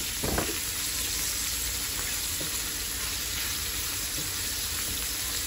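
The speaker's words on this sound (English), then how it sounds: "That's how you saute up some beautiful Brussels sprouts." Brussels sprouts with bacon sauté in a pan, giving a steady, fairly loud close sizzle with a few faint knocks.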